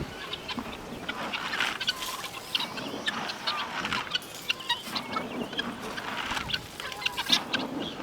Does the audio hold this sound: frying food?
no